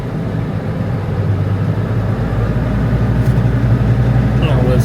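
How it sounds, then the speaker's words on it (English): A tractor engine is revved up on the foot throttle, a steady close rumbling drone that swells gradually louder over a few seconds, with a mower setup in a field. "Now start to rev her up on the foot throttle."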